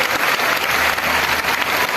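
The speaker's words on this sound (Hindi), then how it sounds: "और जोरदार तालियां मैं वापस कहूंगी पूरे मंडल के भक्तों के लिए।" Loud, dense applause from a crowd of devotees at a Bhagavata katha religious discourse in Rewari, a steady wash of clapping that fills the whole stretch without breaks.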